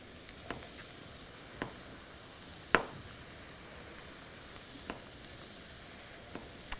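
Chopped onion sizzles quietly in a hot pan, a soft continuous frying hiss broken by a few sharp crackles and pops, no talk.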